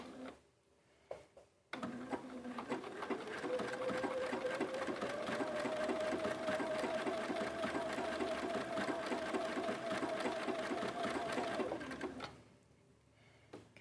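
A sewing machine stitches a blanket-stitch appliqué, starting after a short quiet pause, speeding up to a steady, rattling whir, running alone for about ten seconds, then stopping.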